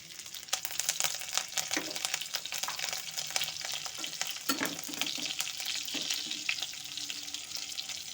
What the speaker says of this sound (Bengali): দিয়ে দিচ্ছি কাঁচা লঙ্কা কুচি